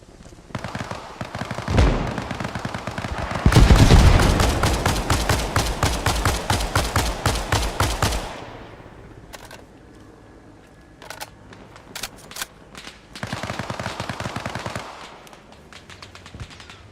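Long bursts of rapid automatic machine gun fire in the video game Arma Reforger, loud and close with sharp repeated cracks, a quieter stretch of scattered distant shots, then another sustained burst near the end.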